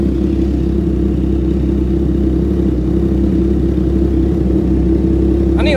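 Triumph Trident 660 motorcycle idling with a loud, steady low exhaust rumble held throughout, close to the bike with no pauses.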